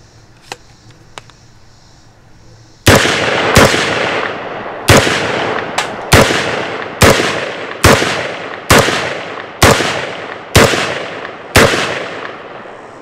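Rifle fed from Lancer magazines fires ten loud, sharp shots outdoors at a slow, steady pace, each crack ringing out with a decaying echo. A few faint clicks and handling noises come before the first shot.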